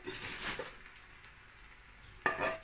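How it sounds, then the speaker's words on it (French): A sauce mixture for leek and bacon pasta being stirred in a pan, giving a soft sizzling hiss with light scraping and a sharper clink near the end, quiet and close, no voices. "je vais faire le mélange de ma sauce que j'avais mis à côté"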